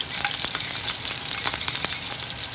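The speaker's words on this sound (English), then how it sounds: "I can grab a whisk and squeeze this wonderful sauce in here" A whisk works a vanilla bean sauce in a pan beside seared scallops, producing close, busy scraping and sizzling with quick irregular strokes, loud and alone.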